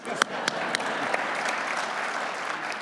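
A lecture audience at a history talk on presidents and war claps in a steady, moderately loud patter, with several sharp individual claps standing out early before the sound settles into an even, continuous round.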